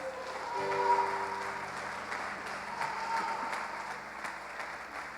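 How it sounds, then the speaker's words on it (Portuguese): A church congregation claps together in sustained applause, a steady wash of many hands that swells early and then holds even, heard from within the room. "Você pode dar uma salva de palmas ao Senhor?"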